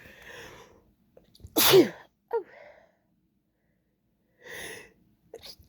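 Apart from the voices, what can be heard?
person sneezing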